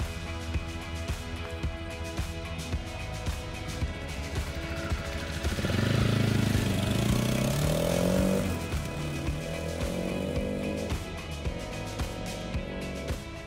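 A ZID Barchan ATV, a cheap Soviet-built trike from the Degtyarev factory, runs steadily while being ridden. Its engine drones at a distance for the whole stretch, swelling louder with a rising rev midway before settling back.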